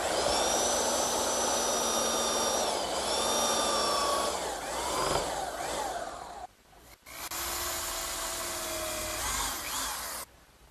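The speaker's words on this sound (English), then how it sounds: "now I'll just use my belt sander to remove the excess dowel" Belt sander grinding down protruding wooden dowels on desk leg joints: a loud, steady motor whine with rising and falling pitch as it bears on the wood, a brief pause near the end, then running again.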